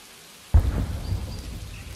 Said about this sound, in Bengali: তাড়াতাড়ি দোকান বন্ধ করে বাড়ি চলে যাই, যা ঝড় শুরু হয়েছে